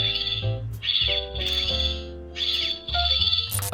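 A toy sonic screwdriver of the 15th Doctor from Doctor Who sounds off in repeated electronic bursts, shrill warbling tones over a low buzzing hum that pulse on and off about four times, loud and close with no talk.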